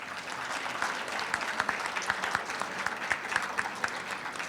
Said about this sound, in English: let's have one more round of applause for all of our guests this morning.